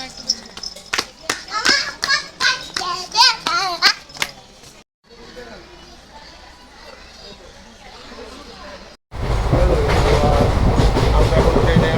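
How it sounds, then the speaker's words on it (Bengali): Riding inside a train bound for Howrah, with a baby babbling and laughing over a low rumble at first, then a loud, steady rattle of the running carriage close by. "আমরা এখন ট্রেনে আছি, যাবো হাওড়া"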